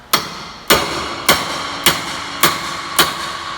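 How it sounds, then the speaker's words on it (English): A hammer drives a metal punch to break loose a hydraulic cylinder during a rebuild: six sharp, evenly spaced metallic strikes ring out close and alone. "So I use a hammer and a punch."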